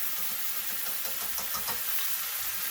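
Six cloves of garlic sizzle steadily in a hot pan, a constant soft hiss with faint scraping taps of stirring, fairly quiet and without talk.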